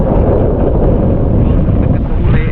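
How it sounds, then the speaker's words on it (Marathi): Strong wind buffets the microphone with a continuous low rumble, loud and unbroken across the moment, with a faint voice underneath. "वारा पण सुटला आहे"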